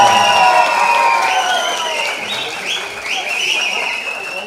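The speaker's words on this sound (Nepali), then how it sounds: "उहाँहरूको सम्मानको लागि जोरदार ताली बजाइदिनु" Audience applause at a political gathering, a steady wash of clapping from a crowd that fades slightly midway and then swells back, with shouts and cheers rising above it.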